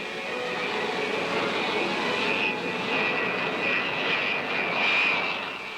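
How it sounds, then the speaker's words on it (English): Boeing B-47 Stratojet jet engines running at idle, a steady loud broadband roar with a sustained high whine, continuous and even throughout with no talk. "Starting the big ship and throttling her to a smooth idle will be a second nature operation."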